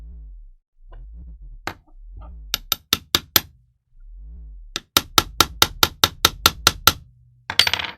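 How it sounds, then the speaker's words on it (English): A small tool taps on a frozen set screw on an RC axle, producing sharp metallic clicks, first in a few short groups and then in a quick run of about a dozen evenly spaced hits, with soft handling noises between. "me find something I can just tap on this with"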